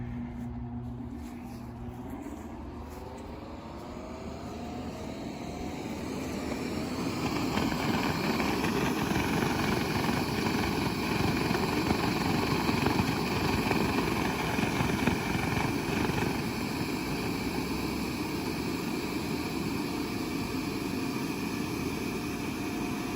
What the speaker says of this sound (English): it inflates pretty quickly, a little under a minute